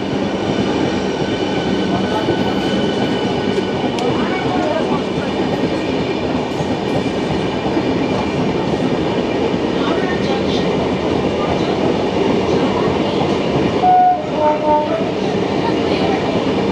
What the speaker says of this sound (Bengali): লোকালও ছাড়লো একসাথে, আর আমাদের ট্রেনও একসাথে।